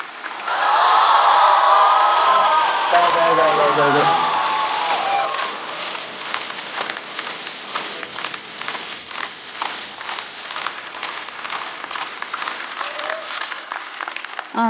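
Audience at a stand-up comedy show applauds and cheers loudly as a comedian is welcomed on stage, a dense burst of clapping that gradually thins into scattered claps under some talk.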